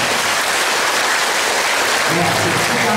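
An audience claps loudly and continuously at a Buddhist lecture on the Lotus Sutra, a dense, even wash of applause filling the room, with a voice beginning to speak over it near the end.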